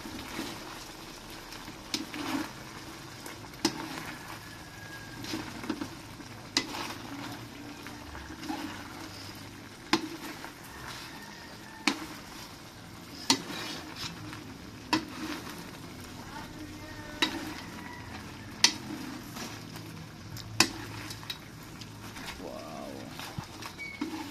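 Seafood and broccoli fry with a steady, close sizzle for a sweet and spicy stir-fry, while a utensil scrapes and taps the pan at irregular intervals throughout.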